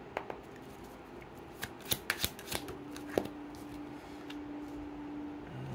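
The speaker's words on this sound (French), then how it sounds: "le temps que je vous tire vos 6 cartes" Tarot cards drawn and shuffled close up, a few sharp snaps and flicks followed by softer sliding, with a faint tone lingering underneath.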